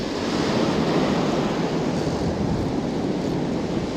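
Ocean surf breaking on a beach with coquina shell beds, a steady, loud wash of waves filling the whole stretch, with some wind rumble on the microphone and no talking.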